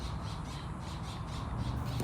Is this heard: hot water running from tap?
no